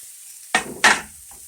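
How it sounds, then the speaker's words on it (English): Broccoli florets drop into a hot pan in two quick bursts of sizzling hiss, loud and close, then fade to a faint crackle. "I got my pan hot, so I'm going to add my broccoli."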